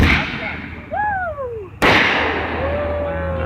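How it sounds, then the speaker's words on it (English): A golden firework shell with a mine and aerial break fires outdoors: whistling streaks rise, then a sharp, loud bang breaks overhead, followed by a fading, crackling tail. "Next up will be the golden one. It has the mine and the aerial brake."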